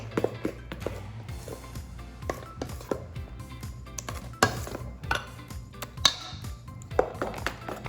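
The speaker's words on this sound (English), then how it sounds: "I'll mix the Eno up." Cake batter for an eggless marble cake being mixed by hand with a pinch of Eno stirred in, giving soft repeated scraping and taps of a utensil against the bowl with a few brighter clinks, close and steady.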